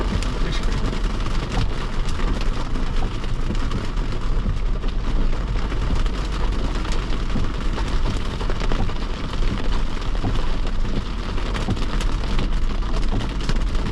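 Heavy rain falls steadily throughout during an off-road Bronco rodeo on slick rock, a dense, constant roar with no voices over it.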